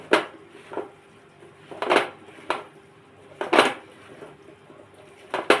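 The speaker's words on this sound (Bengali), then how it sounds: "একটু সর্ষের তেল দিলাম, দিয়ে আমি ভালো করে মেখে নিলাম" Okra being mixed by hand with salt, mustard oil and spices in a metal bowl, giving a few soft scraping and clinking knocks at an irregular pace, close by, with quiet pauses between.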